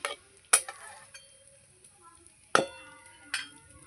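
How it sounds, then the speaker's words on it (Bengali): Panch phoron spices crackle in hot oil for aloo chop and beguni while a spatula stirs them, giving sharp metallic scrapes and clinks against the pan over a faint sizzle. "এই যে 5 ফোড়নটা একটু নেড়ে চেড়ে নেব।"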